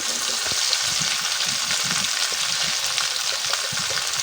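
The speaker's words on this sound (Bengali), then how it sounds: "বউখুদা রান্নার জন্য আমার পেঁয়াজ, মরিচ, রসুন ভালোভাবে ভাজা হয়ে গেছে।" Constant crackling sizzle of onions, chili and garlic frying in hot oil, close and steady, with faint stirring beneath.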